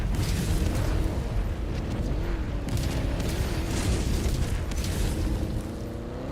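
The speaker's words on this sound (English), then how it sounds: "We are very close to this napalm barrage though" A napalm barrage rumbles in a sci-fi shooter, a dense continuous roar of explosions and booms that fills the whole stretch, with faint tonal game sounds threading through the din.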